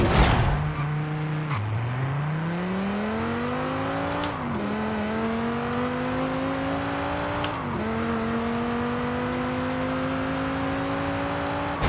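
A sports car engine revs hard during a Forza Horizon 5 drag race, pitch climbing steadily through the gears with three clear shift drops, loud and close throughout.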